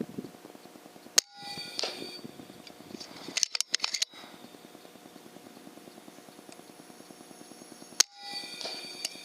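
Sharp shots from an FX Maverick air rifle firing 17.5 grain slugs, a few sudden loud cracks spaced several seconds apart over a quiet outdoor background with a faint regular ticking.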